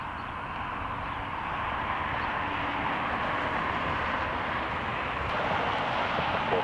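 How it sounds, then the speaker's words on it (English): An eight-year-old Southwest Boeing 737-8H4 airliner arriving from Baltimore at Cleveland, heard as a steady, loud broadband jet roar that swells slightly and holds throughout, with no talking. "Coming in from Baltimore, we have Southwest 2690, Boeing 737-8H4, 8 years old."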